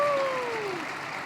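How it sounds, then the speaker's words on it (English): A small studio group at a game company applauds two staff members, giving a soft, continuous patter of clapping with a high whistle or cheer sliding downward over it near the start. "let's give Aggro and Lermy a round of applause for being out here and doing all this hard work"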